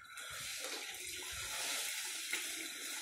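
Water swirls and sloshes continuously in a container as it is stirred by hand while jivamrut is being mixed, a steady watery churning with no voices.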